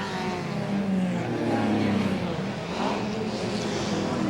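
Race cars roar past at the 1996 IMSA Dallas Grand Prix, including a Mustang sliding sideways through a turn, engines droning and rising and falling in pitch at mid distance under a faint commentator murmur.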